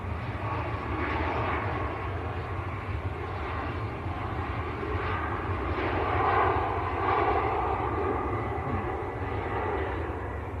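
A Ryanair airliner, Maltese-registered and bound for Lisbon, roars steadily at Manchester Airport on a foggy day, a broad continuous engine rumble that swells slightly midway and holds loud throughout.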